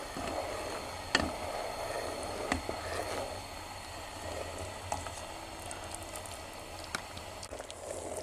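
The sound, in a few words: redcurrant jelly simmering in a pot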